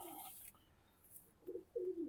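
Pigeons coo on a home rooftop loft, a couple of low, soft cooing calls rising near the end of a brief, otherwise quiet stretch.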